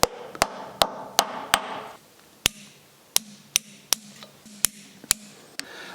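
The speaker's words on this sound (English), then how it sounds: "Put it completely in place with a socket which is about the same size, and gently tap it in." Sharp metal taps from a socket driving a part into place during a Citroen U23/T23 engine rebuild, about a dozen evenly spaced knocks, close and clear, with quiet pauses between them.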